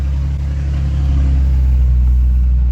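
A Cummins diesel hotshot truck climbs a stone hill in 2-wheel drive, its engine a loud, steady, low rumbling drone that holds close and unbroken throughout with no voices.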